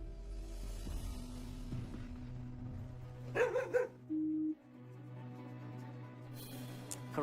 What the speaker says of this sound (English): he actually became excited by the bark of that Springer Spaniel